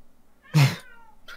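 A single loud, close cat meow sounds inside a video game, followed by the start of another call.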